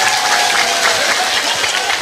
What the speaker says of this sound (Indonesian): Tepuk tangan kagem Pak Camat.